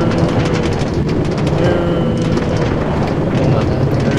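A Minecraft train arriving at a train station, a loud continuous rumbling rattle with rhythmic clacking that stays steady throughout, with a voice briefly heard.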